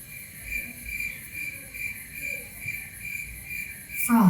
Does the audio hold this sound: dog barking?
no